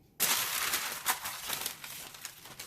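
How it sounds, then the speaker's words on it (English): A plastic garbage bag is handled and crinkled up close, giving a continuous dense crackling rustle with sharper crunches, starting abruptly after a moment of quiet. "plastic bag."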